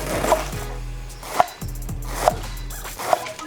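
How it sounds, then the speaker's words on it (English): A knife slices Chinese cabbage finely on a board, four crisp chops spaced about a second apart, each a sharp knock against the crunch of leaves. "So I've got this Chinese cabbage here, and we're going to slice that really fine."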